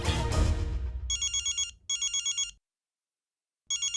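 A phone ringtone chirps in short electronic trilling bursts, two back-to-back rings followed by a gap and a third starting, loud and close after a brief fading rustle at the start.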